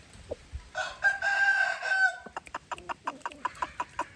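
A young Burmese gamecock rooster crows loudly once, a long harmonic call, followed by a quick run of sharp clucks and clipped calls close by.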